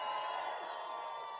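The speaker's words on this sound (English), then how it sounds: "Let me get another round of applause for those queens." Crowd at a People's State of the Union rally held as a boycott of Trump's State of the Union address, cheering and applauding loudly in a steady, dense roar with whoops and no break.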